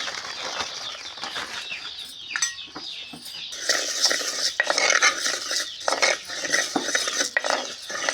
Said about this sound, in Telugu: పప్పు వండుతున్నానండి వేస్తున్నాను